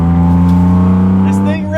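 A naturally aspirated BMW M3, fitted with Kilmat sound deadening and a new lip, pulls hard with a strong, steady, harmonically rich engine drone. The sound is close and loud, and a voice is heard over it.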